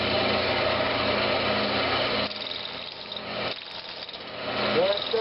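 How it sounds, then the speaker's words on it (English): A roughing gouge cuts into a spinning Brazilian cherry wood blank on a lathe, a loud continuous grinding rasp that eases partway through, then continues at a lower level with a brief scrape near the end. "I'm just going to be using my roughing gouge to do that."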